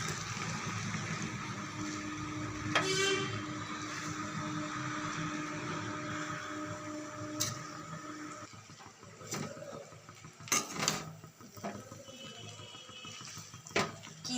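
Chow mein noodles tossed with spices and vegetables in a pan give off faint, soft scraping and shuffling against a steady low hum, with a few sharper clinks of the utensil near the end.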